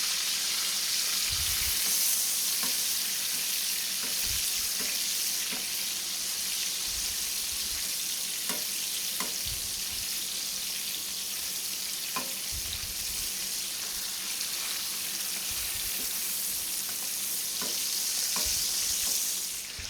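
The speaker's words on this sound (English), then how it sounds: "next what we're going to do is we're going to be basting our burgers." Burgers sizzle and fry steadily in a pan while being basted for bacon cheeseburgers, a continuous crackling hiss with occasional soft scraping and clinks from stirring or spooning, fairly close and with no talking.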